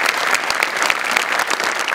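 Loud, sustained audience applause from a studio crowd at a Marathi comedy show, dense steady clapping filling the whole stretch without a break.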